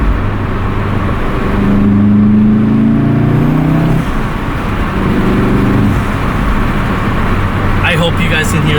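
A 2019 VW Golf R fitted with an MST Performance intake revs hard in a gear pull, the loud engine rising in pitch, dipping, then climbing again, with a voice talking over it.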